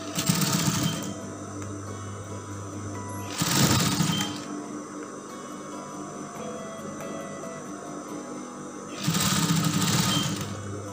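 A sewing machine stitches a mermaid dress, running its upper part in long basting stitches. The motor's whirring comes in bursts, with busy runs near the start, around the middle and toward the end, and a steady mechanical hum in between.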